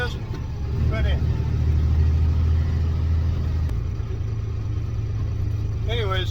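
A 650 motorcycle engine running with a steady low rumble that holds and eases slightly, close and fairly loud, with faint squeaky background sounds near the start and end.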